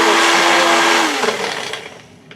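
An electric blender chopping brown wool dubbing for fly tying, roaring loudly and close with a high whirring motor that gradually winds down and fades over the last second.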